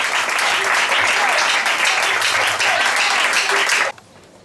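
Audience at a dowry ceremony in Cotonou clapping and applauding, a dense, loud burst of claps lasting about four seconds before stopping abruptly, with voices mixed in.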